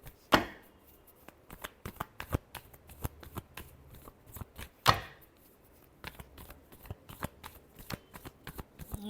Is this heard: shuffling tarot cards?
yes